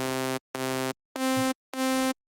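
A synth supersaw patch played without unison voices gives four separate sustained notes in sequence, each a thin, buzzy, bright saw tone with silent gaps between, sounding tinny and narrow in mono.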